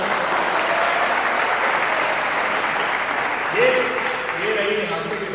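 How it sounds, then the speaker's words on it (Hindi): Loud audience applause at a poetry recitation, a dense sustained roar of clapping, with a voice briefly rising over it near the end. "आपको अच्छी लगी तो एक बार जोरदार तालियां बजा दो।"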